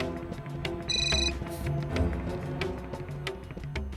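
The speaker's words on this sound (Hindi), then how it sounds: "जाओ जाओ, तुम्हारी दोस्त सुचित्रा का फोन होगा।" Telephone bell ringing briefly near the start over a busy background of music and room sound, the ring short and moderately loud rather than sustained.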